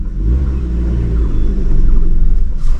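Car engine labouring under load as the clutch is slowly released on a steep uphill start, a close, loud low rumble with a slight rise in revs and no one speaking.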